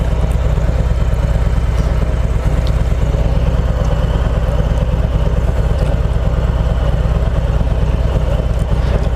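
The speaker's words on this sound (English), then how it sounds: "Sounds beefy with that 114." A 2018 Harley-Davidson Heritage Classic Softail with its 114 engine rumbles loudly and steadily at close range, a deep, constant throb with no pauses.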